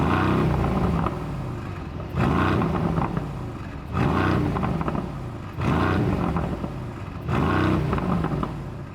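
A Mercedes-AMG GLC63S Coupe V8 in race mode revs repeatedly, five deep, loud blips roughly every second and a half, each rising sharply then easing off against the rev limiter, recorded close with no talking.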